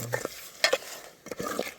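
Shrimp and chilli masala being stirred in a pan, a few quick scraping and clinking spoon strokes over a light sizzle, close and brief.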